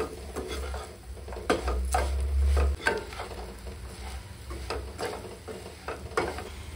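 Pepper and homemade masala powder frying in a pan for chicken biryani, with steady sizzling under rhythmic scraping strokes of a spoon, close and moderately loud, no one speaking.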